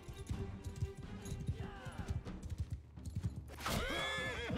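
A horse in Mount and Blade 2: Bannerlord clip-clops with steady hoofbeats, then lets out a sharp neigh near the end, with battle noise in the background.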